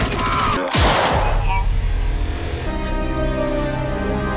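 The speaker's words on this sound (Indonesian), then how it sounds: "anak buah Kop yang masih tersisa muncul dan melepaskan tembakan" Gunfire in an action film scene as gangsters open fire: a sharp blast cuts through a dense, loud soundtrack and is followed by a sustained roar of action noise.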